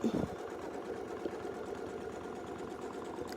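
A sewing machine quilting stitches in a wreath design, a steady close mechanical whir with a rapid even stitching rhythm running throughout, a brief louder knock at the start.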